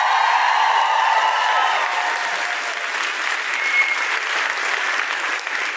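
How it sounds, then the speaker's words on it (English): A live podcast audience gives a big round of applause, a loud, close wash of many clapping hands with scattered cheers, easing slightly but continuing steadily throughout. "Give them a big round of applause."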